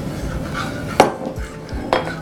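Broccoli and almond soup with milk being stirred in a pot, two sharp clinks of a spoon against the metal over a low steady background, close by.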